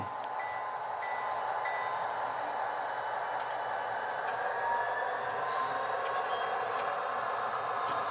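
An HO scale model train pulled by D&RGW locomotives rolls off on a Stockton–West Oakland shuttle, giving a steady, even running hum with faint high squeals throughout and no talking.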